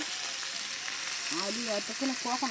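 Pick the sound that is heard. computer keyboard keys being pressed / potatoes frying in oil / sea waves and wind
potatoes frying in oil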